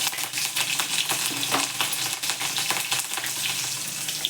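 Mustard seeds, cumin and green chillies fry in hot oil. The close sizzle is continuous, with crackles and pops running through it and faint stirring scrapes.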